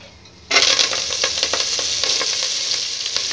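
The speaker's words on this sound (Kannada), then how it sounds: "ಎಣ್ಣೆ ಹೀಟ್ ಆದಮೇಲೆ ಮೆಂತ್ಯ ಸೊಪ್ಪನ್ನ ಹಾಕ್ಕೊತಾ ಇದ್ದೀನಿ." Fenugreek leaves dropped into hot oil set off a sudden loud, steady sizzle with small crackling pops, continuing unbroken and close, with no voices.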